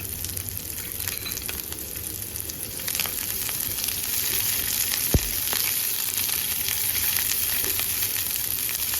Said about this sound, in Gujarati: એકદમ ધીમા ગેસ ઉપર આ મસાલો આપણે સાંતળવાનો છે